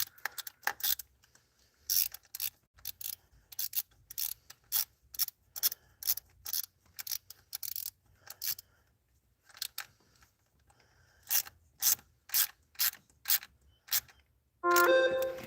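A hand ratchet snugs an intake manifold fastener on a 1996–2005 Chevy Astro AWD, giving close, crisp clicking bursts in quick repeated strokes separated by brief pauses, with no talk.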